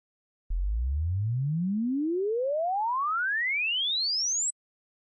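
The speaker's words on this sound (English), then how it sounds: "So it's a sinuous tone that starts at one frequency and sweeps through all frequencies to an end frequency" A pure sine sweep test tone used for acoustic measurement, rising smoothly from a low bass pitch to a very high pitch over about four seconds, steady and loud throughout, then cutting off abruptly.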